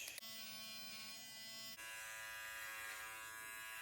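Electric hair clippers fitted with a 5mm guard buzz steadily while cutting a man's hair for a textured fringe low fade, a close, continuous hum whose tone shifts partway through, with no talking.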